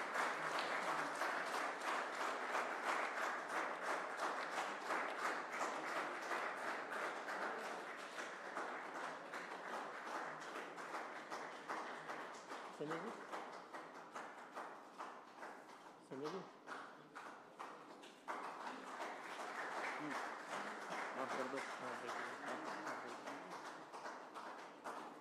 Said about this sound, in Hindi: जोरदार तालियों स्वागत